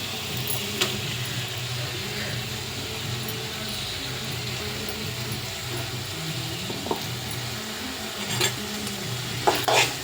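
Ground masala frying with softened tomato in a pan, a low steady sizzle with occasional spoon stirring and scraping, a few brief clinks near the end.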